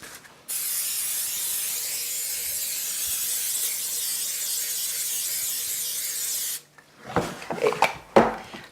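Cooking spray hisses into a casserole dish in one steady, close burst lasting about six seconds, then cuts off, followed by a few clattering kitchen handling sounds.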